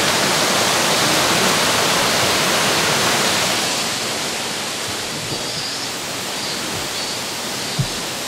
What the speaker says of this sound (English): water crossing the road